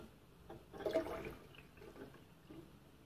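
Water poured into a glass of concentrated tamarind syrup, a soft gurgling, splashing pour that rises briefly and then trails off, faint and close, with no talking.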